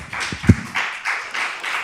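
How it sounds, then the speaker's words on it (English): Scattered clapping breaks out at a June 2024 Board of Education meeting, with a sharp close clap early and then uneven bursts of hands from the room. "The applause was warranted."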